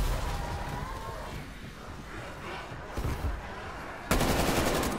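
Rapid automatic gunfire from a weapon in Call of Duty Cold War Zombies on the Die Maschine map, a continuous dense rattle of shots with a sharper, louder burst near the end and no talking.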